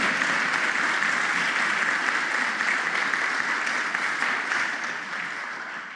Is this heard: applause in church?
yes